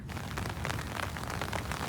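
Steady rain falling on a farm field, a dense, even hiss of drops close by that runs without a break, with no voices.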